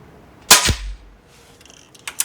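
An Air Arms HFT 500 .177 PCP air rifle fires a single sharp, close crack, followed by a short quiet pause and a couple of faint mechanical clicks.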